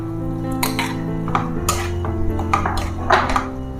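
Squid tossed into a pan with ginger and garlic for a Kerala-style curry brings repeated metal clanks and scrapes of utensil on pan, with a light sizzle underneath and no talking.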